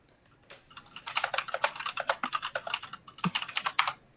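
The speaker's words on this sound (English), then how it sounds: "I enjoy the sound of typing." Fast, close typing on a computer keyboard: rapid clicky keystrokes in uneven bursts with a brief pause before a final flurry, with no talking.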